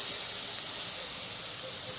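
Semolina tipped into a pan of fried vegetables sizzles with a steady, close, continuous hiss that holds at an even level for the whole stretch, with no voices.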